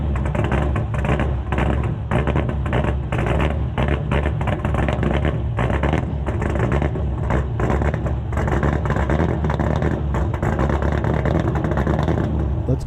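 An E36 with an LS V8 swap rolls out of a garage, its loud engine rumbling continuously and close by with steady revving, no speech over it.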